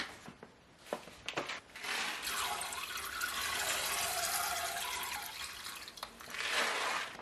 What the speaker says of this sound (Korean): 그래서 이렇게 물을 먼저 받아놓고 쌀을 부어줄게요.